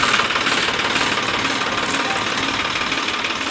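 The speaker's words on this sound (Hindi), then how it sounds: "और ये चाचे उस्मान गणी का ट्रैक्टर है" Tractor engine running steadily at a low, knocking idle on a farm, continuous and fairly close with no talk.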